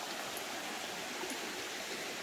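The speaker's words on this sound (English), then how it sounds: "You get to hear the little water coming over the rocks right there." A small forest stream runs over rocks in a steady, full hiss of close rushing water, with no pauses and no voices.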